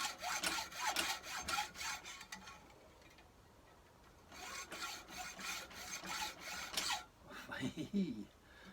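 Hacksaw cutting metal stock for a fuel filter housing spacer on a David Brown 990 tractor: close, rasping back-and-forth strokes in two bursts separated by a brief pause, with a scrape at the end.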